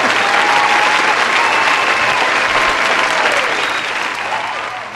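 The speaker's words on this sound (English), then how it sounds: "round of applause for our cameraman on the side" Studio audience on a podcast set gives a round of applause for the cameraman, Justin: dense, steady clapping at full strength that holds for about five seconds before slowly thinning and fading at the end.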